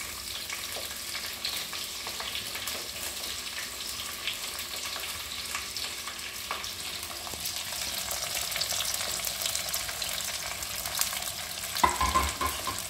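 Green chillies and onions fry in a pan for a Sunday pulav, giving a steady, close sizzle that runs the whole time, with stirring scrapes and a louder clatter near the end. No one speaks.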